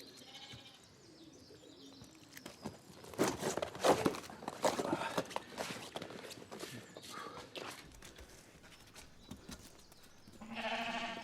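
Sheep on a farm bleat faintly amid shuffling footsteps and handling noises during drenching, with a louder bleat near the end.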